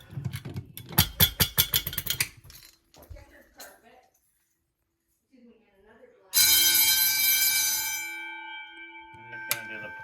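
Fire alarm bells at a 1990s elementary school ring in a loud sustained burst during the second half, fading somewhat toward the end. Earlier come rapid mechanical clanks and handling noises, with a quiet pause before the ringing.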